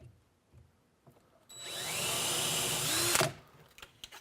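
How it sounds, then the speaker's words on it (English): A handheld power drill whirs steadily for about two seconds while boring shallow pilot holes into the frame for a sink tip-out tray, then winds down. A few soft knocks and handling clicks come before and after. "hold it up there and run the drill right through it if you want"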